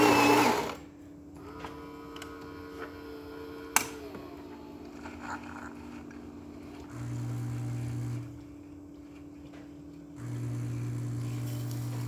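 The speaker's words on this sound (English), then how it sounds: "nice steady stream coming out of the spouts" A Saeco Incanto Classic S-class espresso machine, fitted with a new water pump, brews a short coffee: a steady, close mechanical pump hum runs throughout, with two louder droning stretches and a single sharp click near the start.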